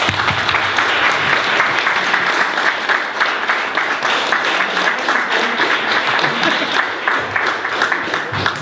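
A theatre audience at an event on the history of the Irish trans movement gives a big round of applause, a loud, sustained wash of many hands clapping at once, steady throughout with no break.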